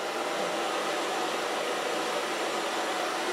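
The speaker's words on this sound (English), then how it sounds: "So far blow drying." A hair dryer blows on hair while it is being styled, a steady, close, unbroken rush of air that holds at one level throughout.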